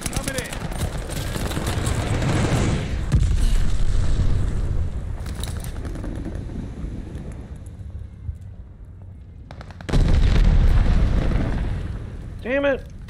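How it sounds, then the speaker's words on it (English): Light bomber airstrike explosions in Call of Duty Vanguard, with heavy rumbling blasts mixed with gunfire over several seconds, then a quieter gap before a loud final burst; voices are heard briefly. "Light bomber assist, coming in."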